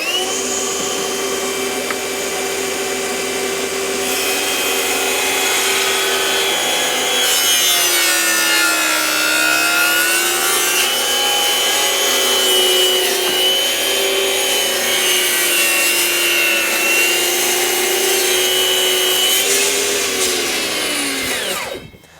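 A Flex table saw rips through wood with a knot, a loud close whine whose pitch sags and wavers as the blade is loaded, running continuously for about twenty seconds before winding down.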